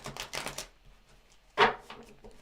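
Tarot cards shuffled by hand in a bursts of rapid papery riffling, a quick flurry of flicks followed by a pause and one louder, sharper riffle near the end, close and alone.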